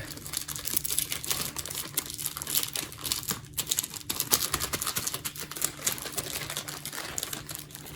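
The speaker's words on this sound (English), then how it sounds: "Let me get some of that off with this tape." Strip of tape dabbed against a dusty 12-volt AC adapter for a Uniden WX500 scanner, giving close, continuous crinkly sticking and peeling sounds with irregular soft crackles.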